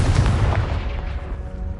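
A Confringo fire spell blasts in Hogwarts Legacy, a heavy booming burst up front whose low rumble rolls on and fades over the following couple of seconds.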